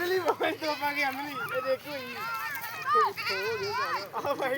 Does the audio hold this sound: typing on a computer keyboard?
no